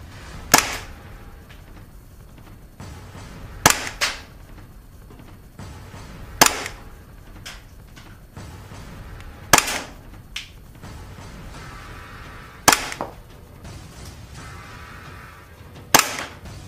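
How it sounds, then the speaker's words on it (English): A KWA FPG airsoft pistol, modelled on a Glock, fired over a chronograph: six sharp, loud snapping shots spaced about three seconds apart, each with brief mechanical rattle, with quiet handling noise between. "now we're going to be testing the FPS of the KWA FPG"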